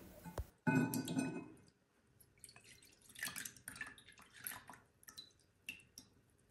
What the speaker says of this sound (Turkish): Hazırlamış olduğum toz zerdeçal karışımı soğudu. Şimdi süzüyorum.